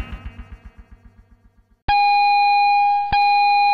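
A school bell sounds at the start or end of a school day, a bright sustained electronic tone that cuts in sharply, briefly breaks and resumes, following a fading series of rhythmic knocking pulses.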